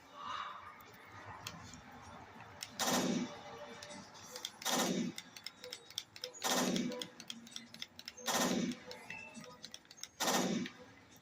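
Sniper rifle fired in 3-round bursts in the video game Resident Evil Revelations 2, five sharp loud bursts spaced roughly two seconds apart over faint ticking game ambience.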